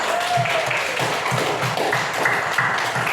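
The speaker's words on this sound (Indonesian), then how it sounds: "Tepuk tangannya" A classroom of students applauds a silat group's performance with steady, dense clapping that fills the whole stretch at an even level, with no clear talking over it.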